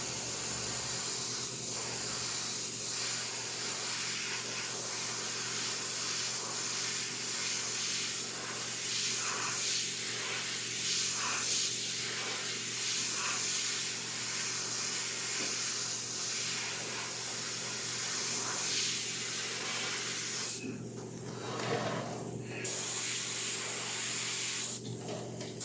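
An airbrush sprays paint onto a large 1/3-scale Juggernaut model, a continuous close hiss that runs steadily throughout and drops out briefly near the end.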